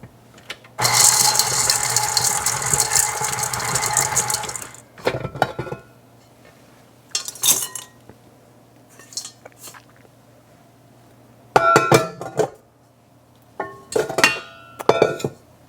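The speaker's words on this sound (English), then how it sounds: "I'm going to mix them some more." Chocolate chips are worked into cookie dough in a bowl: a long stretch of loud scraping and clinking, then several short bursts of spoon against bowl separated by quiet pauses.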